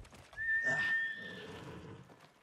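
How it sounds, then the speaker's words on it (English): A horse in the video game Ghost of Tsushima lets out a single clear whinny that trails off, heard alone against a quiet background. "There's my horse."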